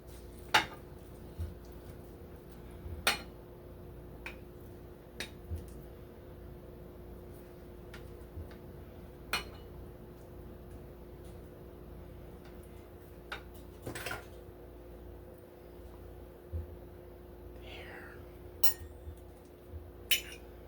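Plates and cutlery clink sparsely as food is plated up: a dozen or so sharp, separate metallic ticks and clatters over a quiet room tone.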